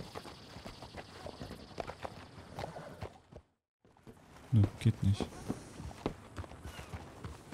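Horse hooves clip-clop in Red Dead Redemption 2 Online, a few quick hoof strikes near the middle under a voice, with game ambience and a brief silent gap.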